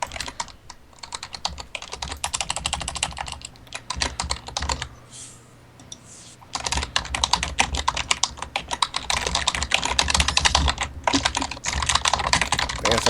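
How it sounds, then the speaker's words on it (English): Fast, loud clicky typing on a computer keyboard rattles on continuously close to the microphone, pausing briefly midway before resuming in dense bursts. "needs a quieter keyboard."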